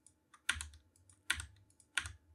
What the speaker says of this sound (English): You press M on the keyboard, M for Mickey Mouse, and that creates a chapter point.